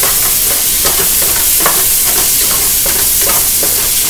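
Chicken fried rice with broccoli cooked in a pan gives a loud, constant sizzle with a steady run of scraping and stirring strokes, no talking.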